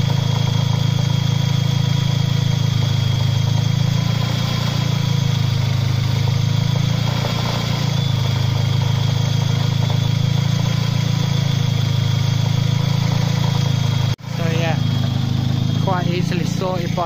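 A Mercedes-Benz M111 four-cylinder, as fitted to the 200/230 and W208 CLK, idles steadily and loudly up close with a rattle riding on the low, pulsing engine note; a brief cut near the end is followed by a few voices.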